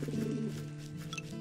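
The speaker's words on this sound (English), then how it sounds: "Pigeon!" A pigeon cooing in a video game, a short low throaty coo heard close and moderately quiet, followed by a faint higher chirp.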